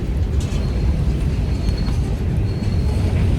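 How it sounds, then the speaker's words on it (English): A train on the Ferrocarril de Cuernavaca in Mexico City rumbles past steadily, a dense low roar with faint metallic rattling, close and continuous throughout. "this is a happy train"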